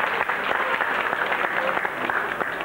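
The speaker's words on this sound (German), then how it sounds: "herzlichen Dank mit einem spitzen Superapplaus für Angie von den Red Devils" A live audience at a touring German TV game show applauds for Angie of the Red Devils, a dense, steady wash of hand clapping from a large crowd lasting the whole stretch with no voices over it.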